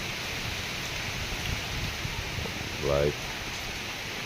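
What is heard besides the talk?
heavy rain with wind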